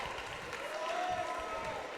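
Wrestling crowd noise in the WWE 2K19 game, a steady wash of cheering and scattered applause from a large arena audience, with a commentator's voice running over it.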